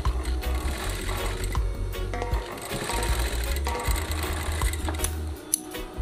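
A sewing machine stitches a shirt cuff at close range, a loud, steady mechanical whirr broken by brief pauses and restarts.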